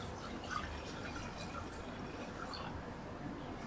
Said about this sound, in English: Put clean water in there first.